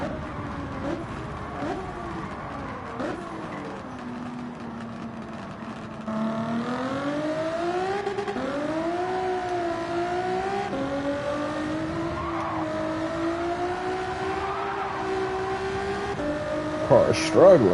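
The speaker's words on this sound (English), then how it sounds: "Car is struggling. This car is definitely a challenge." Racing car engine in a video game, revving and straining with rising and falling harmonic whine across most of the stretch, loud and continuous, with brief talk over it early and a sharper burst near the end.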